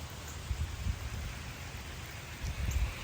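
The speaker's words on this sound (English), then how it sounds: "it's still pouring down, so I really need to probably get out of the rain" Heavy rain pours steadily over a garden bed, a dense continuous hiss with low rumbling gusts, close and fairly loud, with no voices.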